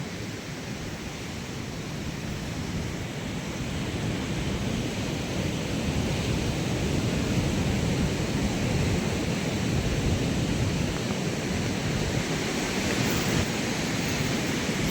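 Sea waves roll steadily onto Benaulim beach in Goa, a continuous broad surf roar with wind, building slightly louder after the first few seconds and staying even throughout, with no voices.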